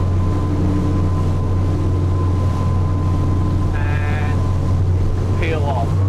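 A Tasman 80 boat punching through big ocean swells in Bass Strait, Australia, with a steady loud engine drone, rushing water and wind buffeting the microphone, a few brief higher squeals near the end.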